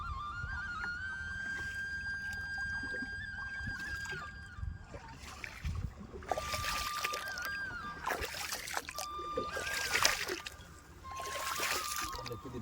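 A boat on the Narmada river, with soft water lapping and splashing against the hull under a low engine-like drone, while people talk intermittently nearby.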